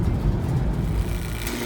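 A pickup truck drives with a steady low engine rumble and road noise heard from inside the cab.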